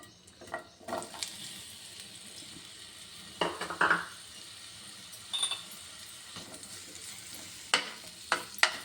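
Onions drop into hot oil in a pan and crackle in short, bursting sizzles between quiet moments. Spoon and pan clinks are scattered throughout, close by, with no talking.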